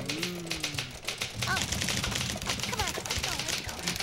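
Rapid clattering typewriter keystrokes in dense bursts, with a cartoon-like voice and slide-whistle sounds mixed in over the mechanical clacking.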